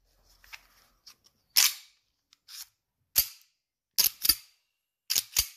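A custom Glock 17 Gen3 airsoft pistol fires several sharp, snappy shots, some in quick pairs, with faint mechanical clicks between them.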